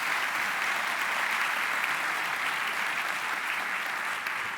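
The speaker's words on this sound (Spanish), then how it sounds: "Dale un fuerte aplauso al Señor si entendés eso." Steady, dense applause from a church congregation at a Spanish-language Christian teaching, filling the space evenly for several seconds without talk.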